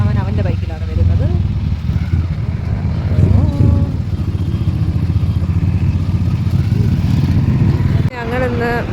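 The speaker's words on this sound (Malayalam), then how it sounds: "ഞങ്ങൾ കുറേ മാസങ്ങൾക്ക് ശേഷമാണ് ബൈക്കിൽ യാത്ര ചെയ്യുന്നത്." A motorcycle ride along Hesaraghatta Road near 8th Mile, with a steady engine drone and wind rumble running the whole way. People talk over the continuous noise.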